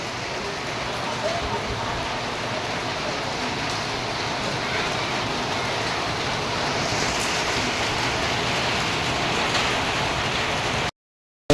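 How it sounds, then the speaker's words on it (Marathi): Heavy rain pours steadily in a dense, loud hiss that barely changes, then cuts off abruptly near the end. "पाऊस बरंच झाला"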